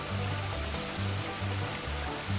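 A steady, rushing wash of falling water from a waterfall on the Appalachian Trail fills the short stretch, constant and fairly close, with no voices over it.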